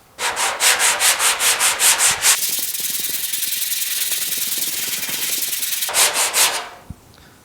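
Hand sanding of epoxy on a GTO restomod car fender, loud close rhythmic scraping strokes, a fast run of repeated passes, then a softer continuous rub, then a few more strokes before stopping.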